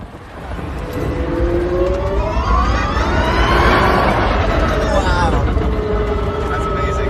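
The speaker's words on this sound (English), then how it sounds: "That's the actual mechanical sound of having electric motors around the car." An Aspark Owl electric hypercar accelerates hard, its electric motors giving a loud, smooth whine that climbs and sweeps in pitch over steady road and wind rush, continuous and close throughout.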